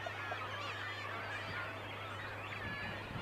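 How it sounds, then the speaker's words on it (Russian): Gulls call repeatedly over a sea coast in Peter the Great Gulf, Primorye, on the Sea of Japan. The honking, wavering cries sound faint and somewhat distant over a constant low background. "Чайки постоянно контролируют их территорию."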